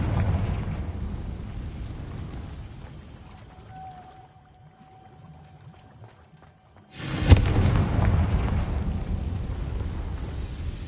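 A Confringo spell from the game Hogwarts Legacy goes off as one sudden loud fiery blast and then a sustained crackling roar. A quieter rumbling bed with a faint tone comes before it.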